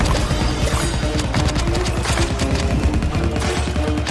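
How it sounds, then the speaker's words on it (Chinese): Rapid machine-gun fire from a football zombie in a 3D Plants vs. Zombies game, a loud continuous burst of shots with dense rattling rhythm and small gaps. "橄榄球机枪"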